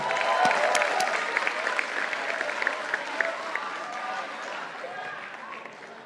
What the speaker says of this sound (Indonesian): Kita sambut dengan tepuk tangan yang meriah Ketua Umum PSI Bro Kaisang Pangarep.